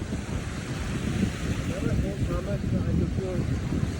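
Ocean waves wash onto a beach at night in Punta Cana, a steady, close surf rush blended with wind buffeting the microphone, while voices murmur faintly underneath.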